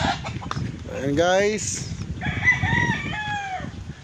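Gamefowl roosters from a big-time breeder at a game yard crow in drawn-out calls near and far, with clucking around them, while someone talks over the birds.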